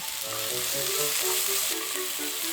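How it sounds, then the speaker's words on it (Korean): Zucchini, minced garlic and onion stir-frying in sesame oil over medium heat, a steady close sizzle with faint stirring clatter throughout, no voices. "다진 마늘 반 숟가락 넣고 볶다가 양파를 넣어줍니다."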